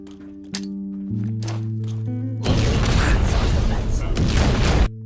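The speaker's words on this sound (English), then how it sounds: "Toss a couple grenades down." Grenade explosions in a video game erupt as a dense, loud blast roar lasting a couple of seconds, cutting off abruptly, after a stretch of tonal music and a voice speaking.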